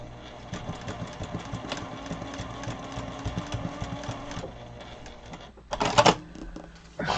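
A sewing machine stitching a quilt piece, a close, rapid mechanical chatter that runs steadily for several seconds, then stops, followed by a few clunks and rustles.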